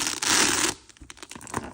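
Metal chain strap of a fake Chanel Classic Flap Caviar bag with gold hardware slides through its hardware, a brief loud rustling rattle followed by fainter light clinks, close up.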